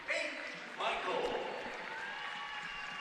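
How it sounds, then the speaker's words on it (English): Crowd at a college men's basketball game applauding, a burst of clapping and cheering that swells and then fades, with sneaker squeaks and an announcer's voice over it. "Senior Aiden Michael will check out to a nice ovation from the crowd"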